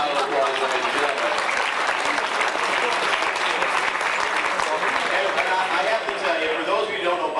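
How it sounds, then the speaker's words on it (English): A banquet audience gives a sustained round of applause, dense, even clapping from a large room that carries on steadily for over seven seconds. "Give Bobby Biddle a nice round of applause, ladies and gentlemen."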